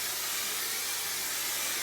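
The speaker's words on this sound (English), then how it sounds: "before I touch the back, I am going to spray the top." A steady close spray of hairspray misted over the top of bleached fine hair, one continuous hiss held for the whole short moment with no talk.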